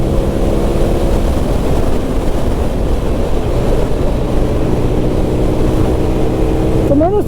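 A TVS Apache RTR 160 160cc motorcycle ridden at around 126 km/h, heard as a steady loud rush of wind buffeting over a droning engine hum, continuous throughout with a faint rising whine at the end.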